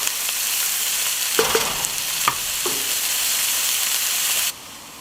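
Onions fry in a Dutch oven with a steady, loud bright sizzle and hiss, broken by a few soft stirring scrapes, before the sizzle cuts off abruptly near the end.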